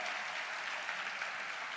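A church congregation at an opening worship service gives warm applause for guests from Jeju, a dense steady wash of many hands clapping with no voices.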